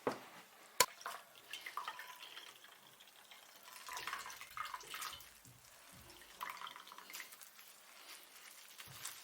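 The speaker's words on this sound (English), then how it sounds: "Squeeze the other half of the cabbage." Chopped cabbage being squeezed by hand as water drips and trickles out into a pot, quiet wet splashes and drips that are soft and fairly close, with no speech.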